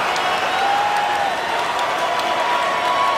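A dense hockey arena crowd in NHL 24 roars and applauds in a loud, unbroken wash with a faint whistle-like tone running through it.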